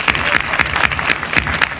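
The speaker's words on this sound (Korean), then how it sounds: "리더십들을 위해서 격려의 박수를 한번 보내주시겠어요?" Audience in a university church gathering applauding student leaders, a steady wash of many hands clapping at close range, brief and fairly loud without pauses.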